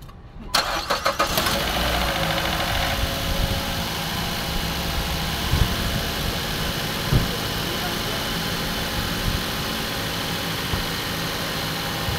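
The engine of a Mazda CX-7 cranks and catches, then settles into a steady, loud idle that hums on close by with faint mechanical ticks throughout.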